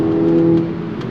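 Steady engine drone from a Volkswagen Golf R MK6 under way, a continuous hum heard from inside the car that eases slightly toward the end.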